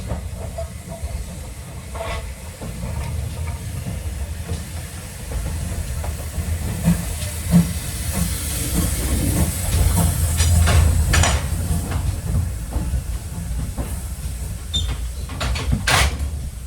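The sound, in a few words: GWR large prairie 5199 steam locomotive hissing steam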